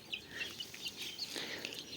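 Chickens and a rooster in a small farmyard make faint, soft clucks and brief calls, several short chirpy sounds scattered over a quiet background.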